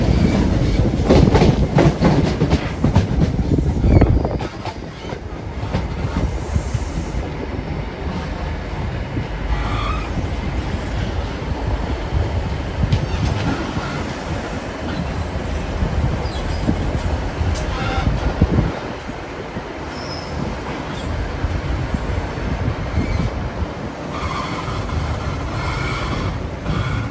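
A train departing a station on the line to Ilkeston rumbles and clatters past nearby, wheels clicking over rail joints with occasional metallic squeals, a steady loud mechanical roar throughout.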